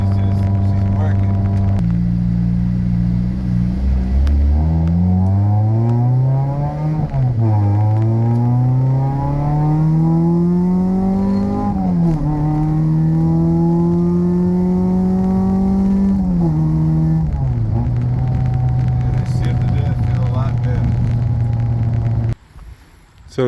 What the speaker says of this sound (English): Car's running amazing.